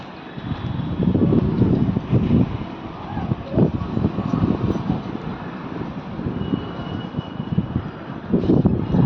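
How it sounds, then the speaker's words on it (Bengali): Strong outdoor wind buffeting the microphone under a changeable sky, loud low gusty rumbles surging and fading in waves, with a voice speaking briefly over it. "খুব বাতাস।"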